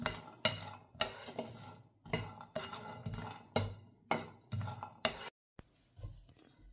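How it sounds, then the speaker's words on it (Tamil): Cashews are roasted in a pan for a muscat sweet, with a spoon scraping and clinking against the pan in a series of quiet, irregular stirring strokes and short pauses. "இப்போ நாங்கள் மஸ்கெட் செய்வதற்காக முன்கூட்டியே கஜுவை நாங்கள் வரத்து கொண்டிருக்கிறோம்"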